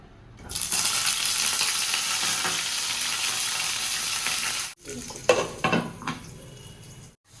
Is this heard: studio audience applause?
no